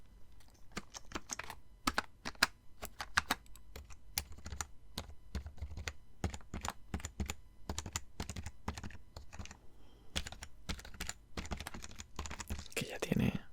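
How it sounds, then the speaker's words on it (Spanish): Rapid typing on a well-worn computer keyboard with some faded letters and numbers, its crisp key clicks close and distinct in uneven bursts and brief pauses, in a quiet room. "tenemos el teclado."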